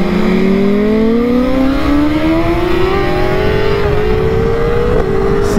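Motorcycle carrying two riders accelerating through the acceleration zone of the COTA race track: a loud, close, continuous engine note rising steadily in pitch, with a brief dip near the end as it shifts.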